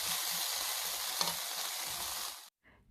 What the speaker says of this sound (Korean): 일부는 바싹 불냄새 나게 볶아서 쌈 싸서 먹을 거예요